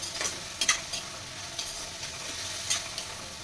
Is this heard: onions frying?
yes